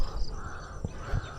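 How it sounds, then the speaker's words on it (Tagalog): A crow caws outdoors in the Philippines, two short harsh calls fairly close against a quiet hum of background noise, with no talking. "meron pang ibon na nag-iingay"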